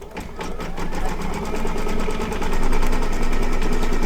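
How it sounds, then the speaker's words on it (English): An embroidery machine stitching on mylar or organza runs steadily with a fast, even mechanical rattle, close and continuous throughout, with no talking. "I'm just going to go ahead and stitch for the inside because I want to see how it looks"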